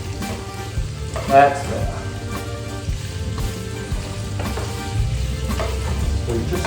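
Beef for caldereta sizzling loudly in a hot pan, a dense continuous frying hiss with occasional stirring scrapes and clinks; someone speaks briefly over it.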